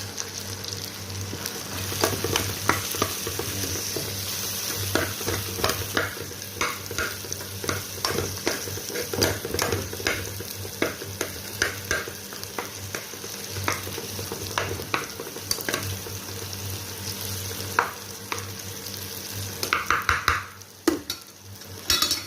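Pancit bato noodles stir-fried in a pan: a steady sizzle runs throughout, with repeated close scraping and clacking of a utensil against the pan, fairly loud and with no voices.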